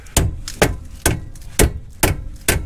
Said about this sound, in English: Once you do that, you can get a hammer